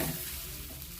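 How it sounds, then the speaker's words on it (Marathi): A steady, soft sizzle of bhakri flatbread cooking on a hot iron griddle, continuous and close throughout the short stretch. "हे आपला तवा तापलेला आहे आता मी भाकरी आपल्या तव्यावर"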